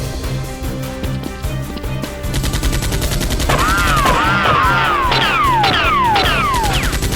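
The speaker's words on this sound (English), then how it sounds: "The other henchmen continued firing relentlessly at Jack, who again fled." Nerf guns fire in a staged firefight, with rapid bursts of mechanical shots that overlap into a dense, continuous barrage and rise toward the end. Whistling, swooping effect tones join in, and there is no talk.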